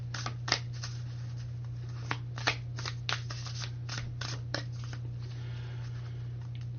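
Oracle cards from the Earthcraft Oracle deck being shuffled by hand, a run of soft papery riffles and slaps, some sharper than others, spread at uneven intervals over a steady low hum.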